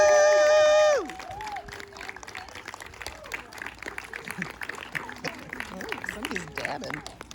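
A crowd of parents applauds and cheers kindergarten graduates at a school graduation ceremony, opening with a brief sustained tone before steady clapping, whoops and chatter fill the room.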